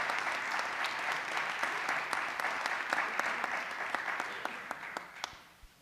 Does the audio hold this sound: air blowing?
no